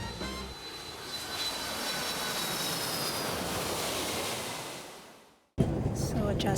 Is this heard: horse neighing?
no